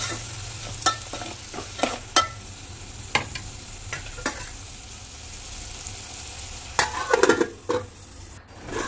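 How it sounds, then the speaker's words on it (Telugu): Tomatoes and onions fry in a pan with a steady sizzle and repeated stirring scrapes and taps, and a louder clatter of stirring near the end. "టమాటాలు వేసి ఇది కూడా కొద్దిసేపు టమాటా ముక్క మెత్తబడే వరకు బాగా ఫ్రై చేసుకోవాలి"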